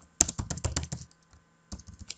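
Rapid keystrokes on a computer keyboard, a quick burst of clacking taps followed by a pause and a few more presses, close and clear with no talking.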